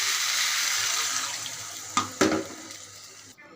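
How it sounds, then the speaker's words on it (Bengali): Water is poured into a pan of potato and egg curry as it cooks, making a steady hissing sizzle with a couple of sharp splashes near the end before it stops abruptly. "এখন আমি হালকা ঝোল দিয়ে দেব।"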